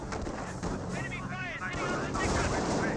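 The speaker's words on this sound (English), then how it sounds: "gets both SMGs firing since he pushed the squad around the side" Submachine gun fire from an infantry squad in the World War II strategy game Company of Heroes, with two SMGs firing in rapid bursts amid other battle noise under steady commentary.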